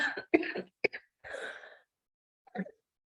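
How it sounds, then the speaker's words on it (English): A run of close coughs and throat-clearing bursts, several sharp hacks followed by a pause and one last cough. "I literally am making myself laugh so much I'm coughing"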